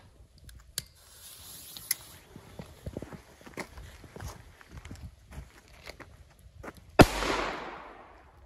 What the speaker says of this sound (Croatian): idemo prvo na tri male petarde, to jest tri male najjeftinije petarde koje sam ja izabrao